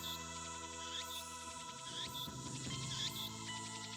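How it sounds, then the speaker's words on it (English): Cicadas chirp near a shrine in the visual novel Steins;Gate, giving a steady high buzzing drone with repeated rising chirps over a low ambient bed, quiet and continuous. "I can hear the chirping of cicadas from the few trees growing here"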